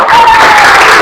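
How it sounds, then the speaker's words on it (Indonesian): A class of primary-school pupils applauding together in a classroom, a loud, dense, steady burst of clapping with a faint voice tone running through it. "Tepuk tangan buat semuanya ya."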